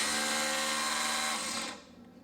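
A Makita DHR264 36V cordless hammer drill runs in hammer drilling mode, a loud dense buzzing rattle held steadily for over a second before spinning down, heard alone.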